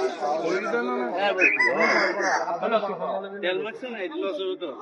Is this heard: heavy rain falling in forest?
no